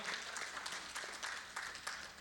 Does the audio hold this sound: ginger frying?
no